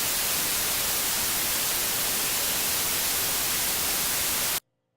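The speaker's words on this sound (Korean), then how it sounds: "이런 소리가 화이트 노이즈가 되겠습니다" White noise generated in Sound Forge 11 plays as a steady, even hiss for about four and a half seconds, loud and unchanging, then cuts off abruptly to silence.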